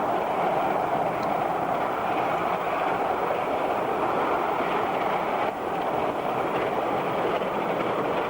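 A Bure Valley Railway train climbing steeply just after a tunnel, in 1991, its steady loud rumble and rolling rail noise continuous and close throughout, with no talk.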